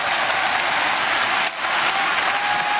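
A large crowd claps loudly and continuously for a fighter at a Muay Thai event, dense steady applause filling the arena with a brief dip midway.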